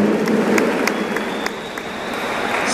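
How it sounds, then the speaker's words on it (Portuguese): Loud, dense applause from a crowd honoring a taekwondo grandmaster at a ceremony, a continuous patter of many hands with a few sharper claps standing out. "Uma salva de palmas para o nosso grão-mestre"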